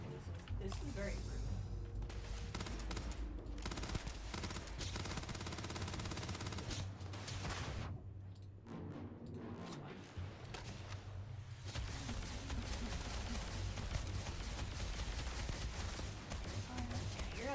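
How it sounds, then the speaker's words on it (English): Missiles strike a player's spaceship during combat in Starfield: sustained rapid blasts and impacts rumble on for many seconds with a short lull midway, fairly quiet overall. "We got some missiles."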